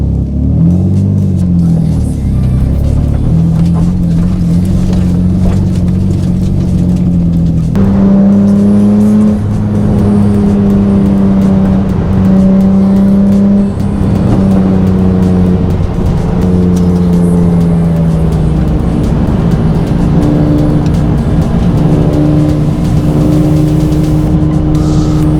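A Nissan 350Z on a test drive around a neighborhood after a BC Racing coilover install gives a loud, steady engine drone from inside the car, rising and falling through gear changes as it accelerates.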